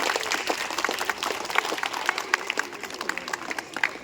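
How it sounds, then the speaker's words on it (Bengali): High school students at a National Science Day event give a short round of applause, a patchy scatter of claps with an irregular rhythm, fairly close and moderately loud, with a little background murmur. "রাধেশ ভাইয়ার জন্য আজকে বিজ্ঞান দিবসে একটা ছোট্ট হাততালি দাও"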